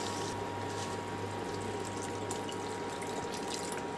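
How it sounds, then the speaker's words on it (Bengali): Water pours into a pot of lentils (dal) on the stove in a soft, steady trickle and gurgle, quiet and continuous with a faint background hum and no talk. "এবার এতে সামান্য জল অ্যাড করব।"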